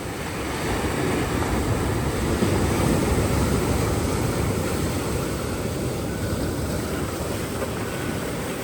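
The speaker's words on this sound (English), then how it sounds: "of the waves crashing against the rocks." Ocean surf crashes against rocks along Ali'i Drive in Kailua-Kona, Hawaii, as a continuous loud roar with a small swell rolling in, overlaid by some wind buffeting.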